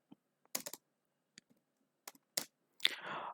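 Scattered keystrokes on a computer keyboard: a few isolated clicks, a quick burst of several keys, then a longer rattle of typing near the end, close and clear in a quiet room with no talking.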